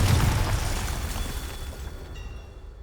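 A fiery blast spell erupts in the Hogwarts Legacy video game, a loud booming burst up front that rolls off into a long fading rumble with faint magical shimmer at the tail.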